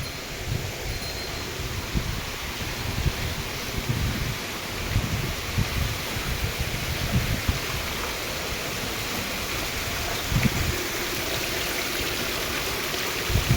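Rainwater runs and splashes steadily outdoors during heavy monsoon rain, a continuous broadband wash with small thumps and gusts throughout, no voices.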